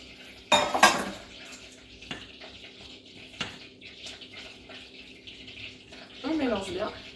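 Egg whites being mixed into dry powders in a bowl for a coconut and pineapple financier batter: a loud clattering knock at the start, then scattered light clinks and taps, ending in a scraping, stirring swirl.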